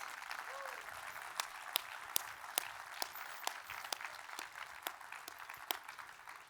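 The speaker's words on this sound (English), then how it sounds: "Applause for the Mariachi Divas." Faint, distant applause for the Mariachi Divas at a university presidential convocation, with scattered sharp individual claps standing out over a soft, sustained crowd wash.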